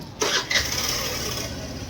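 A vehicle engine catches with a brief thump and settles into a steady idle hum, close by and moderately loud, with a voice speaking over it.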